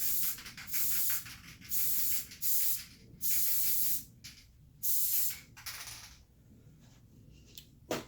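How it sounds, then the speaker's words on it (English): Spray glue hisses onto a stainless steel tumbler in several short bursts of about half a second to a second each, close and fairly loud, separated by brief pauses, with no talking. "I'm going to take my spray glue again"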